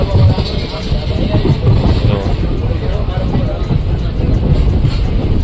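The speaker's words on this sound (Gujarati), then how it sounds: "આપણી ટ્રેને ટ્રેક બદલી લીધો છે." A passenger train rolls along the track between Jetpur and Khijadiya station, switching tracks with a steady, loud rumble and faint wheel clatter over the full stretch, with a low murmur of voices in the carriage.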